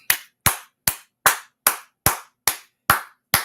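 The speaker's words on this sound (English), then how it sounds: "Let's clap it up." Group hand clapping in a steady, evenly spaced rhythm, nine sharp unison claps each with a short decaying tail, loud and close with no talking.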